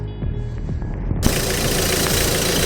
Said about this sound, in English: So here we go, the engine is on.